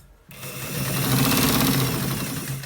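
A sewing machine stitches a shirt collar. It starts after a short quiet moment and then runs as a fast, even mechanical whir with rapid needle ticking, close and fairly loud.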